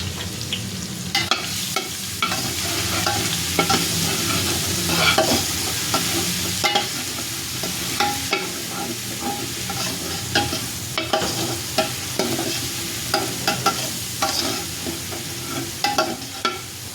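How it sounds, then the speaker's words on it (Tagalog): Crushed garlic frying in hot used oil, a steady bright sizzle with scattered clinks and scrapes of a utensil stirring the pan throughout. "Medyo pipirituhin muna natin yung bawang hanggang sa pumula konti, hanggang sa mag golden brown"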